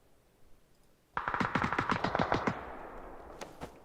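A rapid burst of automatic gunfire in the video game Battlegrounds rattles off after a quiet moment, followed by a few scattered single shots, sharp and close.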